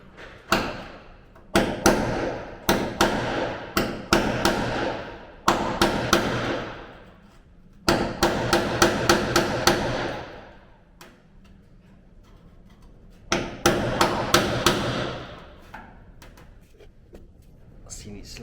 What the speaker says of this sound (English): I'm gonna just give that a quick chisel through